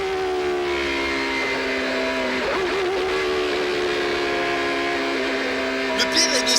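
A 1993 Peugeot 905 race car engine heard from inside the cockpit at speed: a loud, sustained, whining harmonic drone that bends slightly in pitch, with a brief rattle near the end.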